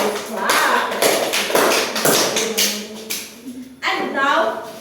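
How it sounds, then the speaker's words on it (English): A classroom full of students applauds the winning puzzle group, a dense wash of clapping with voices and cheering mixed in, steady and fairly loud throughout. "Let's give a loud clap."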